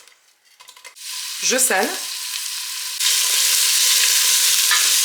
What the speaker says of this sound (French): Lorsque l'huile est chaude, j'ajoute mes oignons.